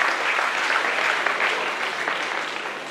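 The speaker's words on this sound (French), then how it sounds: "Veuillez l'applaudir s'il vous plaît." Steady audience applause at a debate final, a dense continuous patter of many hands clapping throughout, fairly loud and without voices on top.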